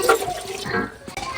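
Water poured into a pan with jaggery to make syrup for rice flour laddus, a short splashing gush that trickles and stops briefly before resuming, close by.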